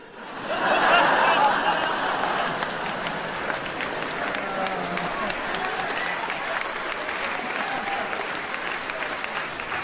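Sustained applause fills the room at a Taylor Tomlinson stand-up comedy show, a loud burst of clapping that settles into a steady roar mixed with scattered laughter and cheers.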